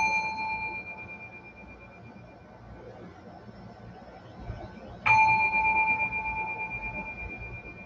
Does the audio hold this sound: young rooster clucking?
no